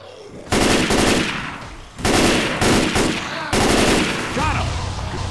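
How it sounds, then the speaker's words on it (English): Automated sentry gun in the video game Left 4 Dead 2 firing loud, rapid bursts, three sustained volleys separated by short pauses, close and dominant with no talking over them. "sentry gun, let her rip"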